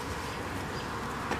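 A small swarm of honeybees buzzes inside a box, a close, steady low hum with a dense drone throughout and no voices.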